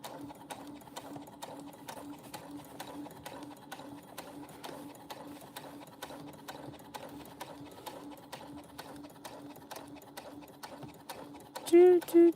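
A sewing machine stitches around a bag seam with a soft, fast, steady mechanical ticking throughout, nearby and quiet, ending in a couple of louder thumps.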